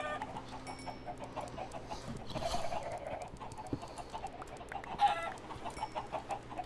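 Clucking chickens in the video game Blockville keep up a continuous run of nearby fowl calls over faint game ambience, with one louder burst partway through and no voices.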